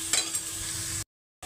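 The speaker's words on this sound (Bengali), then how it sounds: "পেঁয়াজটা আমার ভাজা হয়েছে" Onions frying in a pan, with green chilies cooked alongside, as the base for chicken bhuna: a close, even sizzle with a spoon tap near the start before the sound cuts briefly to silence.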